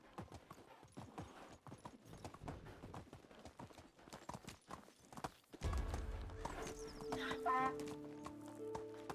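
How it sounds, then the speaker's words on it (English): Donkey hooves clip-clop steadily in Medieval Dynasty, a medieval village game, with a brisk regular rhythm under ambient game music that swells midway, while rooster and hen sounds and farmyard fowl clucks drift in the background. "we're gonna hop on our donkey, and we're gonna follow him"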